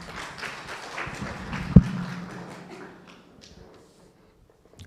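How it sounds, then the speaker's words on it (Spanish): Applause from a lecture-hall audience welcoming a priest speaker at a university talk in Lima, a short burst of clapping with one loud thump, fading to near silence. "Lo recibimos también con un aplauso al padre Azcoaga."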